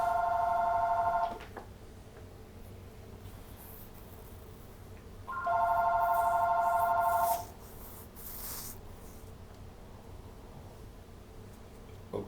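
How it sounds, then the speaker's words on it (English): An office telephone system rings in two long electronic bursts, a short one at the start and a longer one a few seconds later, with quiet room tone between and after the rings. "could you hold just to let this phone system stop ringing?"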